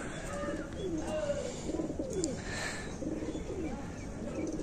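Several pigeons coo softly in a loft in low, rolling calls that overlap, set against a steady hiss of ambient noise with faint chirps.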